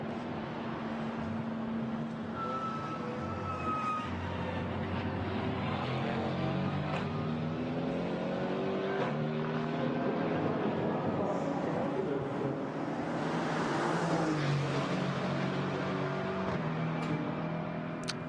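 Mercedes GT4 race car engine at Spa during free practice, a steady rumbling drone with shifting tonal harmonics that rises and falls as the car runs downhill, under faint commentary.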